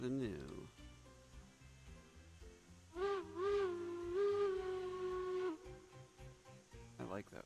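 A steam locomotive whistle in the video game Railroads Online sounds in a long, steady tone with slight pitch wavers, over a busy backdrop of rhythmic rumbling and background music.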